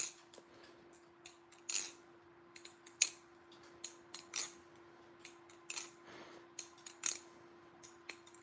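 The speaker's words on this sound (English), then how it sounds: "These are all Balisong trainers, all right, which means that all of these are perfectly safe just for flipping purposes" Balisong trainer knives flip in quick bursts of sharp metallic clicks and ticks, scattered irregularly and close up against a quiet background with a faint steady hum.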